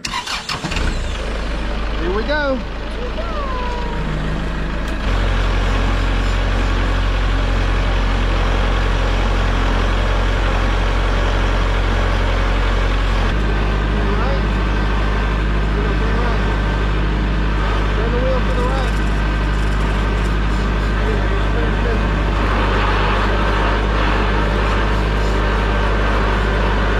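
A tractor engine cranks and catches, then settles into a loud, steady running rumble that continues throughout, with people talking close by over it.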